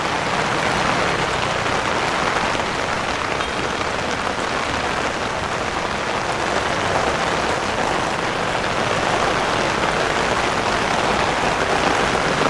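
Heavy rain pours onto a street in Goa, a dense, steady hiss of drops on hard surfaces that stays loud and unbroken throughout, with no voices heard.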